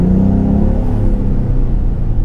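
A 2017 Ford Raptor twin-turbo truck accelerates hard from inside the cab, with a loud, steady engine drone and a whirring note that climbs slightly in pitch. No one speaks.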